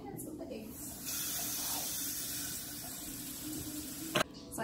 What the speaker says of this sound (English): Rinse your pasta once you drain it too